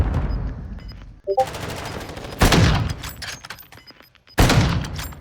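Gunfire in a competitive bomb-mode shooter match, with loud, sharp rifle shots cracking close by, including a sniper rifle, in a few separate bursts over background game noise.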